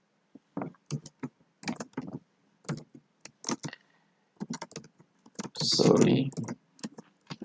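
Keystrokes on a computer keyboard typing git commands come in short clustered bursts with pauses, close and clear, ending in a louder broadband rush of sound.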